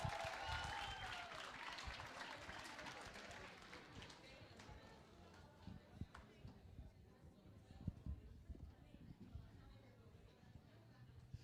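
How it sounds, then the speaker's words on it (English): Graduation audience at a CapaCiTi CoCT ceremony claps for a named graduate, a brisk burst of many hands that is loudest at first and then thins into scattered claps and murmuring chatter, fairly faint overall. "Round of applause."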